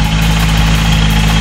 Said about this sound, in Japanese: エンジンの調子いいみたいですね。